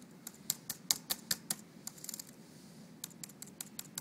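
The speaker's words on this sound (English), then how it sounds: "I'm hitting just the space bar right here. That's the space bar, and it's just going crazy." Keys clatter on a computer keyboard linked to an Arduino, with the space bar struck repeatedly. Sharp, quiet clicks come in quick uneven bursts with brief pauses, close up over a faint hum, with no talk.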